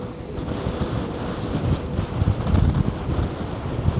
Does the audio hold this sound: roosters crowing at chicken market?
no